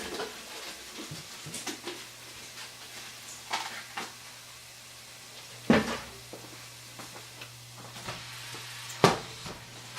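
Turkey meat, still partly frozen, hitting a pan of translucent softened onions, giving a steady low sizzle and frying hiss with a few sharp clanks and scrapes of a utensil against the pan.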